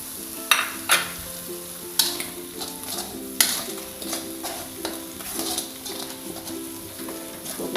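Spice paste for Indonesian egg stew frying and being stirred in a pan, a continuous close sizzle broken by sharp scraping and clinking strokes of a utensil at an irregular pace.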